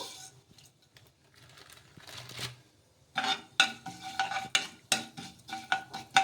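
Sesame seeds and cumin frying in a little oil, heard as a quiet sizzle at first, then a run of sharp metallic scrapes and clinks of a spoon stirring in the pan.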